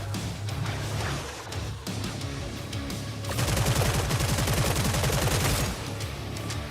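Dense automatic gunfire in the game Hell Clock rattles on nonstop, steady at first and then louder and more rapid in the middle stretch before easing slightly.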